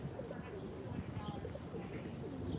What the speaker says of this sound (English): I hear a lot of cooing on this sidewalk here.